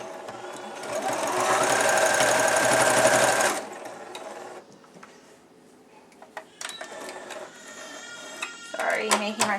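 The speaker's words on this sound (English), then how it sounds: "you're just going to slowly stitch your legs shut, keeping things lined up once again." A serger sewing machine runs in a steady, fast stitching burst for several seconds while sewing the legs of a cloth diaper, then stops, leaving quieter handling noises and scattered clicks.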